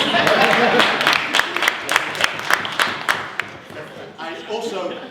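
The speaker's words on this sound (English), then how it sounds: "round of applause." A parliamentary audience gives a round of applause after a joke, with dense clapping that gradually thins and fades out near the end, with a voice briefly speaking over it.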